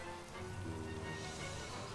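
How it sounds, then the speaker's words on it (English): Steady Minecraft rain, a continuous hiss of falling drops, fills the scene at even loudness over a low game hum, with no speech. "And it's raining"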